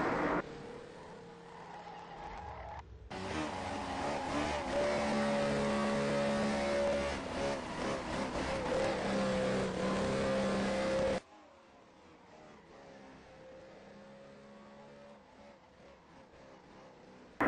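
Race car engines roar on a racetrack, a loud sustained drone that swells in, holds for several seconds, then cuts to a quieter distant hum.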